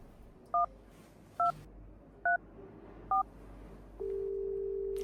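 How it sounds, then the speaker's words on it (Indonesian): Telephone keypad tones from a phone call being placed: four short, evenly spaced dual-tone beeps over quiet room noise, followed by a steady continuous tone starting near the end. "Buruan telepon Ricky-nya"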